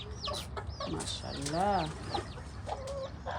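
Local chickens and chicks on a farm, faint clucking and soft peeping with a drawn-out call in the middle, heard close by while a person speaks briefly.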